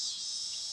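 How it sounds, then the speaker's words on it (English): Cicadas buzzing outdoors in a continuous, loud, high-pitched droning chorus that holds steady throughout with no other sounds. "You're going to have to ignore the cicadas."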